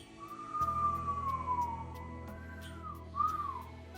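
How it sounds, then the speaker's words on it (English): A single person whistles through puckered lips during a Kundalini yoga breathing exercise, a soft, wavering breathy tone rising and falling in pitch, close and quiet over faint background hum. "We're puckering our lips and we're whistling."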